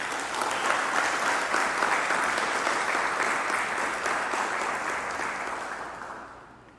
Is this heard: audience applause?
yes